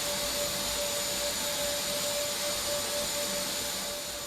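A BJC1923 industrial vacuum cleaner runs steadily under test, a loud continuous broadband roar with a fixed whine, unchanging from start to finish with no talk.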